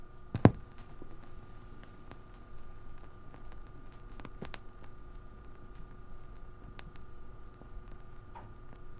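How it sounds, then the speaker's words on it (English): The run-in groove of a vinyl record after cleaning in a Degritter machine gives a quiet, low hiss with only a few isolated clicks, one louder pop near the start, much calmer than an uncleaned surface. "Now here is the sound of the running groove after we cleaned it with the Degritter."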